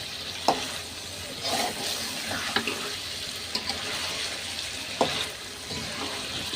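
Potatoes are stir-fried into a chicken curry with a soft, continuous sizzle, punctuated by several sharp clicks and scrapes of a utensil against the pan at irregular intervals.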